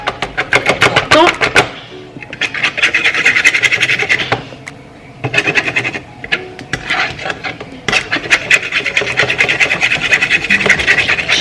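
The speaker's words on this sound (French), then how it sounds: "Bien mélanger les œufs." Two eggs are beaten in a bowl, with rapid scraping and clicking of a utensil against the bowl in bursts separated by short pauses, close and fairly loud.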